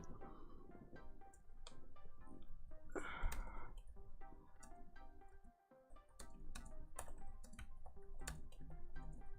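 Steady clicking of keys on a computer keyboard, fast irregular typing at close range with a short pause midway, moderately quiet.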